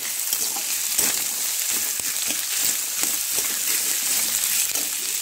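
Potatoes added to onions already frying in a pan give a steady, loud hiss and sizzle, with scraping stirs breaking through now and then, close and continuous.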